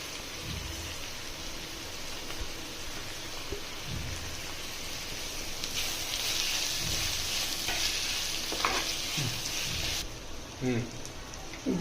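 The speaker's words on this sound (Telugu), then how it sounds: "ఇదిగోండి వేగుతుంది." Curry ingredients with salt, turmeric, chili powder and jaggery fry in a pan with a steady, fairly loud sizzle, joined by occasional stirring knocks as a voice speaks briefly.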